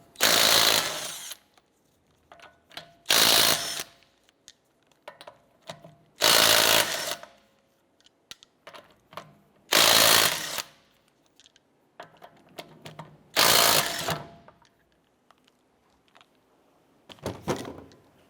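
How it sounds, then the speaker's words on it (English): An impact wrench with a 19mm socket loosens the lug nuts on a 2008-2012 Honda Accord wheel: six loud, close, roughly second-long bursts separated by quiet gaps with small clinks. "let's go ahead and remove our lug nuts."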